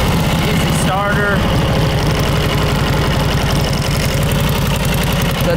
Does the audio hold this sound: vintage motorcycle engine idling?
yes